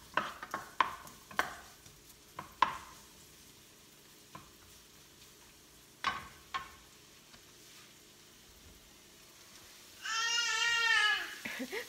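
Onions are stir-fried in a pan: scattered scraping stirs and light sizzling sound close by, with irregular clacks of a utensil, and a person's voice briefly talking near the end.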